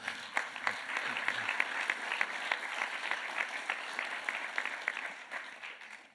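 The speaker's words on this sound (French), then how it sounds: "on peut les applaudir très fort" An audience claps warmly and continuously, a dense even patter of many hands that fades out at the end.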